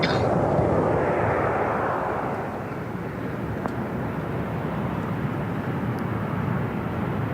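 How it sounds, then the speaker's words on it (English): An aeroplane passes over a golf course near Málaga airport during a women's professional tournament, a loud, broad engine roar that is strongest at the start and then holds as a steady rumble, with no talk. "It's with the aeroplane noises that we're pretty close to the airport at Malaga"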